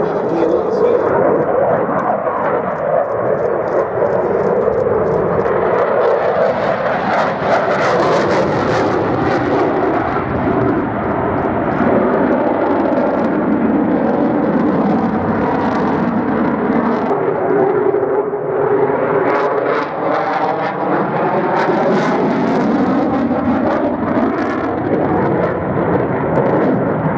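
A Tornado GR4 strike aircraft flies at an airshow, its jet engines producing a loud, sustained roar that swells and sweeps past, with a commentator speaking over it.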